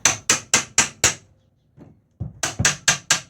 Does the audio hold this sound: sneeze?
no